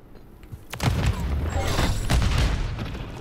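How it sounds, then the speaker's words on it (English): A grenade goes off in Call of Duty, a single heavy blast with a rumbling low tail, followed by a second boom over the lingering battle noise. "Grenade out."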